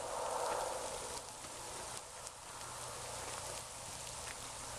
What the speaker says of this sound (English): it's really starting to rain heavier. It's actually sleeting on me.